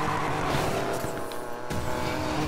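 A Porsche engine in the racing game Need For Speed Payback roars loud and steady throughout, with faint tire noise and no voices over it.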